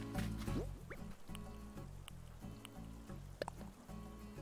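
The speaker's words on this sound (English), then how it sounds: "Garden faucet." A garden faucet drips water in Animal Crossing: New Horizons, with quick, bright plinking drops falling over a steady, rhythmic game background that runs throughout.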